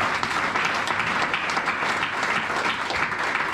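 A church congregation applauding during a worship service, dense continuous clapping from many hands, loud and even throughout.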